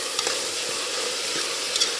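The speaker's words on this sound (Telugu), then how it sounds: "గోల్డెన్ బ్రౌన్ కలర్ వచ్చేదాకా వేయించుకోండి." Onions fry in oil toward golden brown with a steady, close hiss of sizzling, broken by brief scraping stirs, with no voices.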